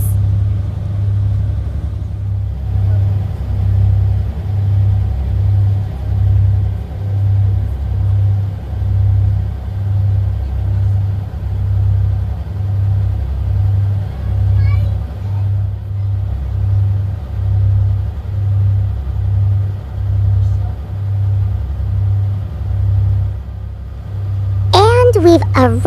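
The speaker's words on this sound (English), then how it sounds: "This ferry brings new visitors to Suomenlinna every 20 minutes." A ferry engine on the crossing between Helsinki and Suomenlinna gives off a steady, loud low rumble with an even throbbing pulse that runs the whole time, and a brief higher whine appears near the end.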